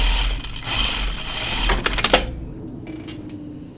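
A sewing machine stitches French seams on a button-up shirt, a rapid mechanical rattle that runs for a couple of seconds and then stops, followed by quieter handling.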